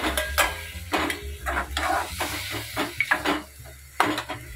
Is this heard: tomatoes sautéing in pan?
yes